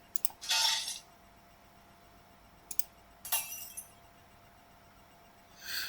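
Glass sound effect samples used in music production: a few short bright bursts of clinking, shattering glass, one longer crash near the start and quicker clicks later, separated by quiet hiss.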